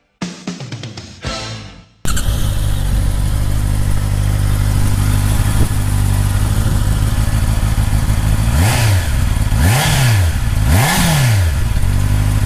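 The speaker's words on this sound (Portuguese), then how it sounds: "O som dos 4 cilindros é inconfundível, aqui o André vai nos ligar a moto" Honda CB650R four-cylinder motorcycle engine starting up after brief handling noises, then idling loudly and close with a steady drone, followed by three sharp revs that rise and fall in quick succession.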